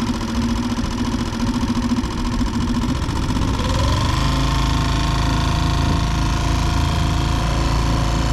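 A boat outboard motor, suspected of a dirty carburettor or bad spark plug, idling and then bogging and sputtering as the throttle is opened, a steady loud drone that turns rougher and heavier partway through, with no speech.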